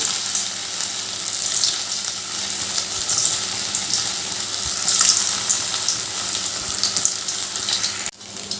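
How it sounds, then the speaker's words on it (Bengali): Soybean koftas fry in hot oil with a steady, loud crackling sizzle that continues throughout, briefly dipping near the end. "বাকি কোপ্তাগুলো একই রকমভাবে ভেজে নেবো"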